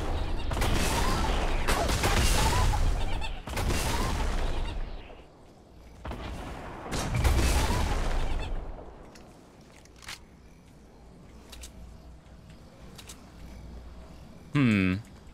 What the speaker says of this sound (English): I get shot from the top of the tree.